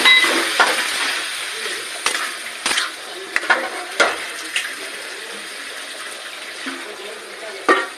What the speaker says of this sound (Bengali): তখন আমি জল দিয়ে দেব।